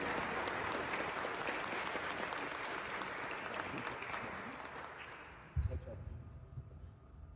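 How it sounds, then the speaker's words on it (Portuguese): Steady, dense applause from a church congregation fills the space for several seconds, then tapers off, with a thump and a few scattered sounds at the end. "Salve de palmas, querido"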